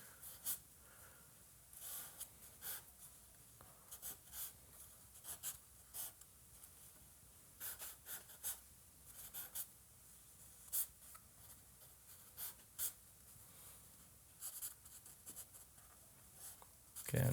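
Charcoal scratches and strokes across paper during a quick five-minute figure drawing, a run of short, brisk, faint strokes in irregular bursts, close to the ear and with no one talking.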